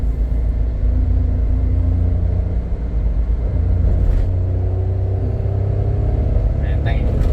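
Daihatsu Xenia 1000 engine pulling under acceleration while driving, fitted with an added gas power booster, a steady low rumble and drone filling the cabin throughout, with faint voices in the background.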